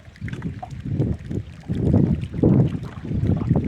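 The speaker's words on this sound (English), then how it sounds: "The wind's blowing at that angle where you get your line." Wind gusts blowing across a lake while fishing from a boat, a loud low rushing buffet on the microphone that rises and falls in waves.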